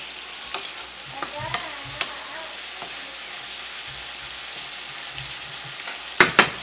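Vegetables fry in olive oil in a pan with a steady, close sizzle and hiss, soft stirring ticks scattered through, and two sharp utensil clanks near the end.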